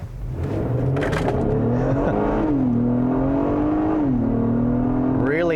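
An Acura MDX A-Spec SUV engine climbs in pitch under acceleration, snapping through quick upshifts of its 10-speed automatic in a steady, loud, close rise-and-drop pattern.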